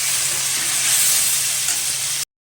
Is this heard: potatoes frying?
yes